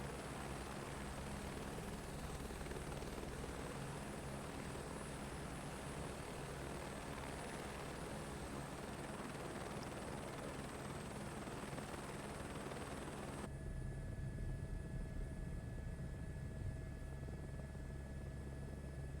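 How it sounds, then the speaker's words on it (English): A helicopter hovering steadily in place in a video game, a constant rotor and engine drone at low level, unchanging for the whole stretch apart from a shift in tone late on. "we're kind of hovering pretty steadily in place"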